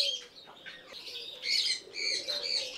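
Pigeons and young pigeons at a loft, making a busy run of chirps and soft calls close by, rising and falling in short bursts, with no talk.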